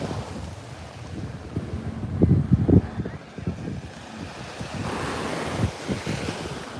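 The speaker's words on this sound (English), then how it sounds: "Today we got the perfect waves in the background." Ocean waves break on the shore of Sanibel Island at sunset, a rolling, washing roar that swells and fades, with gusty wind buffeting the microphone and no voices.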